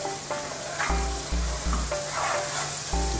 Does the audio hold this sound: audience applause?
no